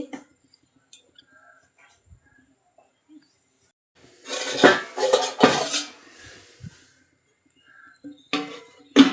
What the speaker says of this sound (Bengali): এবার এর মধ্যে আমি ঢাকনা দিয়ে দিচ্ছি